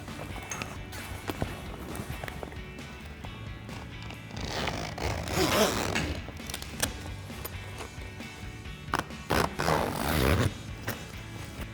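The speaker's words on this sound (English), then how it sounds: "There are 2 zippers that are starting up in this corner." Zippers rasp open in several bursts, close by, amid rustling fabric and handling noises, with quieter pauses between pulls, on a Bestop Supertop 2 soft bed topper of a Jeep Gladiator JT.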